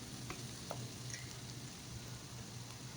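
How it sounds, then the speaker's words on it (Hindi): Onion frying with ginger garlic paste over a medium flame sizzles steadily up close, with a few faint clicks of stirring over the continuous crackle and no talking. "1 चम्मच इसमें अदरक लहसुन का पेस्ट बना के डाल देंगे।"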